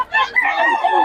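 Gamefowl stag crowing close by, one loud, raspy, drawn-out cock-a-doodle-doo that fills the whole moment.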